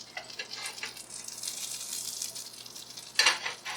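A butter burger patty sizzles in butter drippings in a pan, giving a faint, steady crackle of fine frying hiss with a sharper pop near the end.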